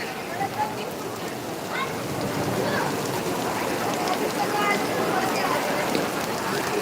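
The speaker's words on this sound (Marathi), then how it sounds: "थोडासा पाऊस किती पडला आहे हे दाखवण्याचा प्रयत्न करूयात" Heavy rain falls at night in Kamati, a steady dense hiss of drops on surfaces. Someone talks over it.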